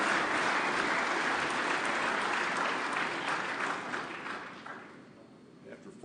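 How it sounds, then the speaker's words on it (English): A dense wash of audience applause greets contestant number 4 at the 2022 senior finals of a game-calling contest. It is steady and full at first, then thins and fades away over the last couple of seconds. "big round of applause, contestant number 4"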